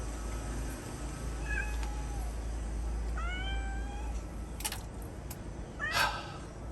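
A cat meows several times at moderate distance, short rising calls spaced a second or two apart over a low steady background hum, with no one speaking.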